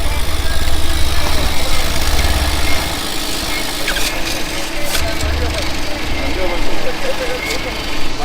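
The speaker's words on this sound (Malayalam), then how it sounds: "സൈലൻസർ ആണ്. അനക്കും വേണോടാ സൗണ്ട്." A motorbike idles through a modified aftermarket silencer exhaust, making a loud, close, steady low thump that eases slightly midway, while people talk nearby.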